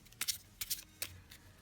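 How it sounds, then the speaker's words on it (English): A Lenormand card deck is shuffled by hand, making four quick, soft, crisp riffling bursts at an even pace, faint and close with no voices. "so I'm shuffling the card"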